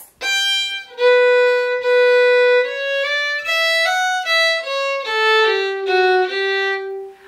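Solo fiddle carries a longer phrase of a Scottish march, a flowing run of bowed notes rising and then falling, close and bright, with no voices.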